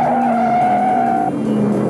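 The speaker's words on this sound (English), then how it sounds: "came into the third turn flat out, lost it, and spun out" A stock car spins out through a turn at the 1971 Virginia 500 at Martinsville, a loud sustained tire squeal and skid over engine noise, with no commentary heard.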